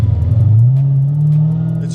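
A Dodge Charger Hellcat with a 700-horsepower engine revs as the gas is pressed, a loud, close engine note rising smoothly in pitch and holding, with no talk.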